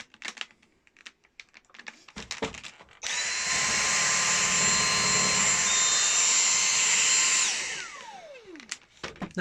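A Dyson V6 Total Clean cordless vacuum cleaner starts abruptly with a loud, steady high-pitched motor whine that holds for several seconds, then winds down with a falling pitch, framed by light handling clicks and knocks before and after.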